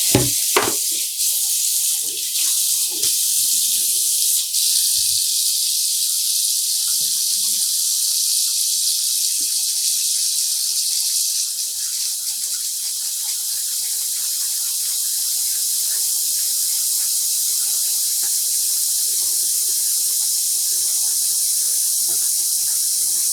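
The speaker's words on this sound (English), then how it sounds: "I'm going to rinse it one more time." Tap water runs steadily into a sink while dyed yarn is rinsed, a loud, constant splashing hiss with a few knocks and clatters near the start.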